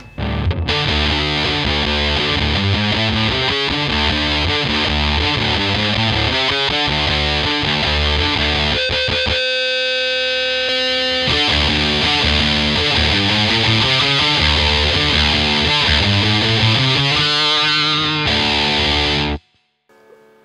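A heavily distorted electric guitar chugs through a riff via a Big Muff fuzz pedal, loud and saturated, briefly breaking midway before resuming and cutting off near the end.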